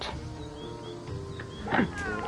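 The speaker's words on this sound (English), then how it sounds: "Oh, cat." A cat meows in the video game Fate/Samurai Remnant, one clear mid-length meow rising out of steady game background ambience, fairly close and distinct.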